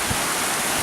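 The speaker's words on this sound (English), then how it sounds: "this is pretty fast for this part of the river" The fast-flowing Cowlitz River near Mount Rainier, swollen with snowmelt runoff, gives a dense, steady roar of rushing water, close and continuous with no other sounds standing out.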